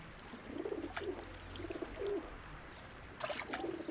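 Several pigeons coo in a town centre, with soft rounded calls repeating in short bursts over light trickling water from birds splashing nearby.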